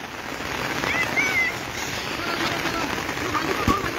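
Steady rain hisses down onto a large sandy field, a dense even wash of sound with faint voices and a brief whistle-like sound in the background.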